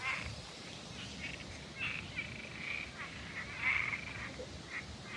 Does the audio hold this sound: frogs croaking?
yes